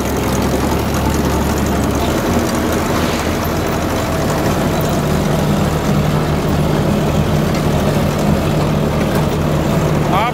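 A Sonalika 60 tractor runs steadily with its PTO gear engaged, driving an implement that throws soil to the side; a loud, continuous low engine drone persists throughout without a break.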